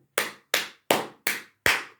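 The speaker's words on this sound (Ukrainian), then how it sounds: "червона доріжка плескає" Five sharp, evenly spaced hand claps, close and fairly loud, each with a short decaying tail and silence between them.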